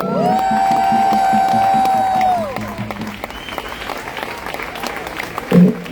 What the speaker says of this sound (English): A big round of applause for Ohad, everybody.